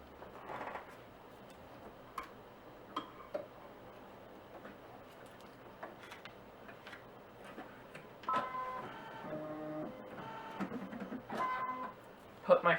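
A sewing machine stitches felt in short quiet bursts of rapid mechanical clatter, the longest and busiest run coming toward the end amid faint ticks and handling noises.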